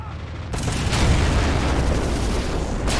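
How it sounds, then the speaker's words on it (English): A tank in Men of War: Assault Squad 2, set in the 1944 German counterattack at Caen, lets off a single deep booming shot. The loud blast rumbles on for a couple of seconds. "It's good to see this tank still firing"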